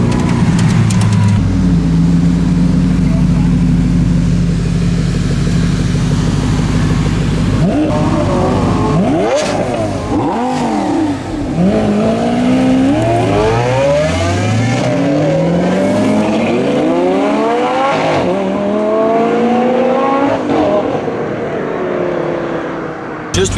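A car engine roars loudly and close throughout a fast lap, with repeated rising and falling revs through gear changes and a possible brief tyre squeal, with no talk.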